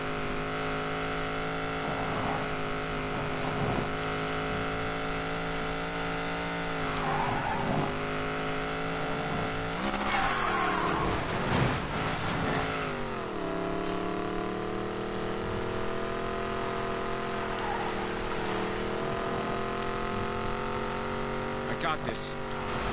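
A Koenigsegg Regera supercar roars in a Need for Speed Payback race, its engine droning steadily with gear-shift dips and a burst of tire skidding near the middle, while a voice talks over it throughout.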